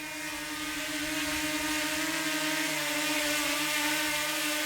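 A DJI Mini 2 drone hovers and comes in to land, its propellers giving a steady, close, high-pitched buzzing whine with a constant tone throughout. No voices.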